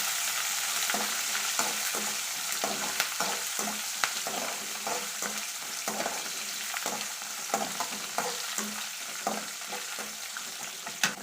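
Green chilies fry in a pan over low heat for a tomato curry, giving a constant hiss with irregular stirring scrapes and taps, close by and with no talking.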